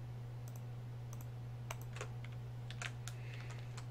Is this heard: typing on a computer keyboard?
yes